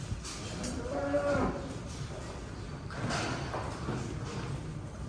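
Dairy cows in a herd of breeding cows in a barn in Germany, low drawn-out moos from several animals, close and overlapping, with faint hoof clatter and barn background noise.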